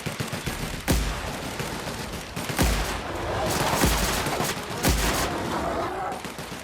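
Gunfire in the sci-fi role-playing game The Outer Worlds, several separate loud shots roughly a second apart over a dense, noisy battle background.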